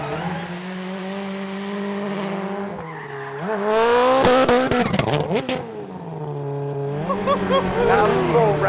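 A driver's 862bhp Subaru Family Huckster revs loudly nearby, engine pitch rising and falling through gear changes, with a burst of squealing tires and skidding in the middle and people talking over the engine.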